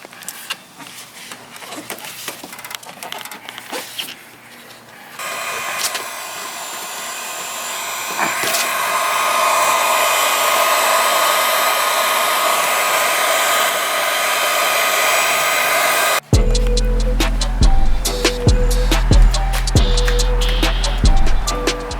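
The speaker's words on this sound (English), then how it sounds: "grab the heat gun" A heat gun blows hot air in a steady, loud whoosh for several seconds while installing J's Racing ducts on a Honda Civic Si FD2, ending abruptly before busier clattering and background noise follow.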